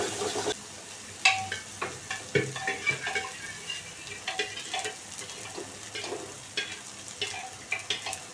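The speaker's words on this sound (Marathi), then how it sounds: "डाळीमध्ये हळद टाकणार आणि परत त्याला मग मस्तपैकी परतून फोडणी घालणार आहे डाळीला." Dal tempering sizzles and fries in a pan as it is stirred with a spoon, giving steady frying hiss and repeated clinks of the utensil against the pan, with no talking.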